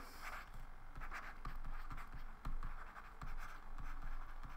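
Pen scratching across paper while notes are written by hand, a soft close-up rustle of strokes in short bursts with brief pauses, quiet and alone.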